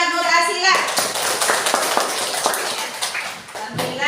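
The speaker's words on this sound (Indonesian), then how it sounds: "Tepuk tangan buat Nur Asila." A classroom of children claps for a pupil at a religious lesson, a dense burst of close hand claps following a teacher's voice, with young voices mixed in.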